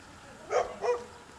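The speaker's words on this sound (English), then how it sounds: "There's a labradoodle, or is it a golden doodle?" A labradoodle or golden doodle at a roadside farm stand near Cowichan Bay gives two quick, fairly loud barks in a row, close by, against quiet surroundings.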